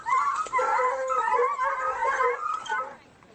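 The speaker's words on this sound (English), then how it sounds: "Scenting blood, a pack of hounds close in on their prey." A pack of hunting hounds closing in on a fox bays and howls together in a continuous chorus of overlapping, yelping voices that cuts off near the end.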